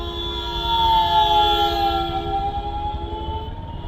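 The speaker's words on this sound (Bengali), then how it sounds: "অ্যাম্বুলেন্সটা ফাইসে গেছে ভাই।" An ambulance siren wails steadily with a rising and falling tone, close and loud, while the ambulance sits stuck in crowded Eid street traffic, with a low rumble of engines underneath.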